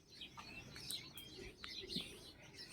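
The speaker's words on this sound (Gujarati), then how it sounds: "પક્ષીનો અવાજ એક ધારો તમે સાંભળી રહ્યા છો વિડીયોમાં" Birds chirp at a village farm, a faint, steady scatter of small tweets and calls at some distance, with a low coo now and then beneath them.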